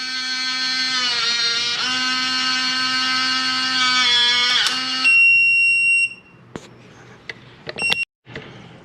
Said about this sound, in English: When it's done, it'll stop beeping.